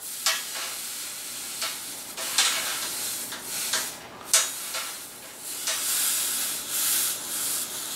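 Hot freshly brazed 3/8-inch stainless steel tube seat being cooled, giving a steady hissing sizzle with several sharper bursts of steam spread across the clip, close and moderately loud, with no talking.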